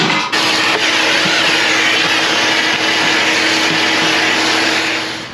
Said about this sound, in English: let's vacuum that out